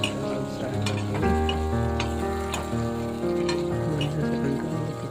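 Potatoes frying in a pan before mustard greens go in for a potato curry, stirred as they cook: an even, continuous sizzle with small ticking pops. A steady tonal hum runs underneath.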